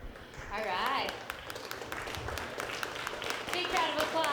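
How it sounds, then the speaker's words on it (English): A crowd applauds at a cannabis security conference: clapping and cheering run throughout, with voices and shouts mixed in the noise. "Big round of applause, everybody, for Gary and Jennifer and the whole crew at"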